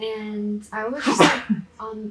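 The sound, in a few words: sneeze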